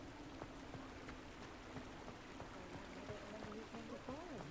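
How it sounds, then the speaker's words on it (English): Steady rain falling in the video game Hogwarts Legacy, a constant even wash of drops spread across the whole stretch with a few faint tonal game sounds rising near the end. "Is it just because it's raining?"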